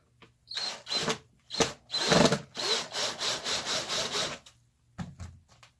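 A power drill whirs in short bursts and then a run of evenly spaced pulses as screws are driven, close and fairly loud with no talking.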